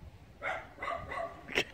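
A dog whimpers quietly, giving a few short, faint whines in quick succession.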